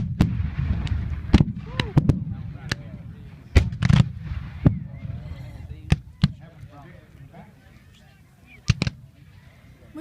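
Gunfire crackles at a Civil War reenactment: scattered sharp reports, some in quick pairs or clusters, ring out loudly near and far over ongoing chatter from people nearby.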